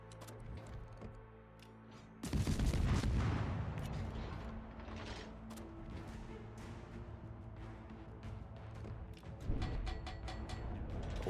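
Naval guns firing from warships in a naval battle video game, a heavy booming salvo followed by a long rumbling decay, then scattered lighter shots and a second loud blast near the end.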